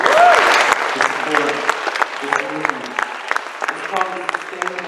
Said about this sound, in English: Give yourselves all a round of applause for coming out on a Thursday